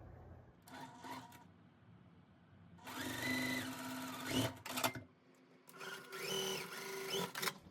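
A sewing machine stitches a quilt block along either side of a drawn line: a close, steady motor whir with a rapid needle patter, running in a few stop-start stretches.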